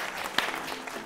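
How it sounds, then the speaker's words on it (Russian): Studio audience on a televised quiz show breaks into a short burst of dense applause, steady and fairly loud throughout the brief moment with no talking over it. "Аплодисменты"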